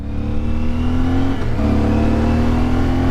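CFMoto Ibex 450 motorcycle accelerating on a highway past 70 mph, its engine note climbing steadily toward a 6,500 rpm shift, close and loud over rushing wind, no speech.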